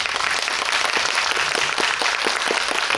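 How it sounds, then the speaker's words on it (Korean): A cinema audience at a Ballerina guest-visit screening in CGV Yongsan I'Park Mall claps steadily and loudly, a continuous close wash of many hands throughout. "박수 한번 부탁드립니다"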